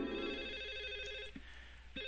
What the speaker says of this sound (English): So now we have a phone ringing somewhere in the apartment building.